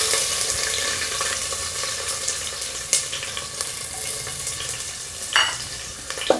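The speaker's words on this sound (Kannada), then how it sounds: "ಹಾಕ್ಕೊಂಡು ಚೆನ್ನಾಗಿ ಹುರ್ಕೋಬೇಕು ಈರುಳ್ಳಿನ" Chopped medium-size onions fry in a little oil with marathi moggu, cinnamon and cloves for tomato rice, giving a steady, close, hissing sizzle broken by a few sharp spatula stirs and scrapes, with no voices.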